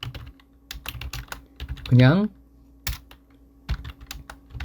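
Typing on a computer keyboard while entering text into a note-taking app: rapid, irregular, close key clicks and taps with short pauses, and a brief spoken word partway through.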